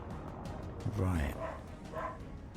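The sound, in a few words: dog barking in the background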